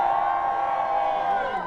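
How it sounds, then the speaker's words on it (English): Rally crowd outside the Supreme Court cheering and whooping in a steady, sustained roar of many voices, with no break across the short stretch. "Give yourselves one more round of applause."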